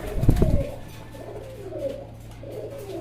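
Hyderabad blue-bar, light-coloured racer pigeons cooing close by in a series of soft, low, rolling coos, opening with a brief fluttering thump.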